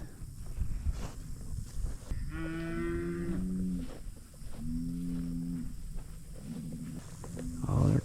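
Mashona Angus cattle and calves moo out in a pasture, several deep, drawn-out calls spaced a second or two apart, moderately near. Low rustling and footsteps run underneath.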